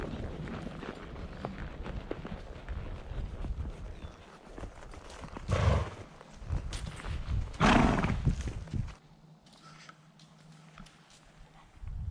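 Horses walk along a trail on a ranch breakfast ride at Outlaw Ranch. Their hooves make a steady, uneven clip-clop with louder scuffling bursts midway, then fade to quieter plodding near the end.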